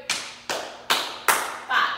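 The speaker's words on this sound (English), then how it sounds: "It's gonna be 2 pats on your legs. Then 2 claps." Two pats on the legs followed by two hand claps, repeated as a crisp, evenly spaced sequence of five sharp hits close to the listener, with no talk over them.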